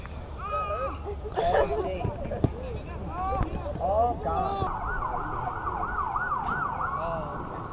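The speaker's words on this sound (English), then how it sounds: "We're hearing an ambulance coming, but we don't see it in sight yet." A wailing siren rises and falls repeatedly, growing steadier and louder toward the end, while a person talks at first.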